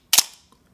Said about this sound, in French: Le son du déclencheur est net, mécanique.